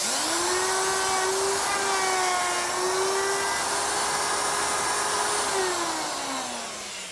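A router with a round-over bearing bit cuts along the edge of a bass guitar body, giving a loud, continuous high whine whose pitch sags slightly under load and then drops as the cut ends.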